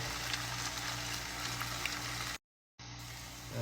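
Chicken added to a frying pan with oil, browning onion, carrot and garlic-ginger paste gives a steady, close broadband sizzle, broken by a brief silent gap before the frying resumes.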